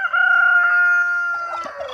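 A free-ranging rooster crows loudly and close by, one long drawn-out call that ends with a few soft clucks.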